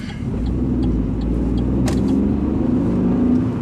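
A 2017 Opel Karl Rocks engine hums steadily as the small car pulls away and drives on, a close, continuous low drone with faint road noise and no talking.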